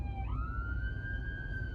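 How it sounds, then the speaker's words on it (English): A siren wails in the distance, its pitch sweeping up and then holding a long steady tone over a low background rumble. "You can hear sirens and things now."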